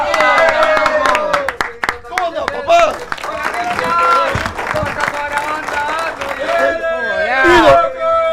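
Applause and cheering from a crowd greeting a guest on a live stream show, mixed with loud overlapping voices, shouting and music throughout, with the clapping partly buried under the talk.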